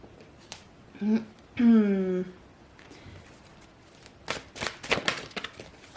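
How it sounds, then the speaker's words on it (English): Tarot cards being shuffled, soft riffling and flicking bursts that cluster near the end, heard close and quiet after a woman's brief speech. "Just going to shuffle the cards."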